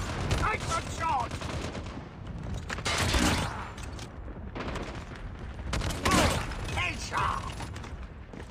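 Sniper rifle gunfire in the Call of Duty video game, with loud sharp shots and mechanical bolt clatter in a busy, dense mix over roughly eight seconds, with a voice heard in places.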